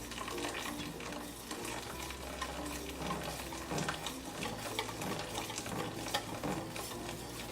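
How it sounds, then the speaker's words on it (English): A whisk steadily combines a pumpkin mixture into an egg mixture for bread pudding, making a continuous soft wet scraping and swishing at low volume with no talk. "in a whisking motion, you want to combine your pumpkin mixture with your egg mixture"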